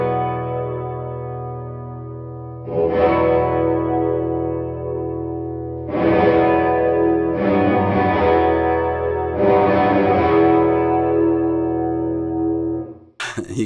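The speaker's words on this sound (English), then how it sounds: "you hear right away, that's like a gated reverb" A guitar through a Catalinbread Softfocus pedal plays several chords, each swelling with a dense wash of gated reverb that cuts off abruptly, leaving short silences between; loud and effect-heavy.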